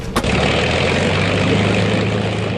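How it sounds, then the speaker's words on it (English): A BOAC Argonaut propeller airliner thunders down the runway on its takeoff run, a loud, steady engine roar with a deep droning hum that holds throughout, close and without voices. "At 10:19 a.m., a BOAC Argonaut, also bound for London, thunders down the runway."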